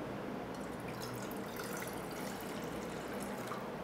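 About half a litre of water pours into a pan on a lit stove, making a steady, soft splashing trickle that lasts throughout, close by, with no talking.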